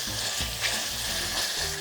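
Thin slices of beef brisket sizzle in a pan over medium heat while cooking for a mushroom pot rice dish, a loud, steady frying crackle close up with no talking.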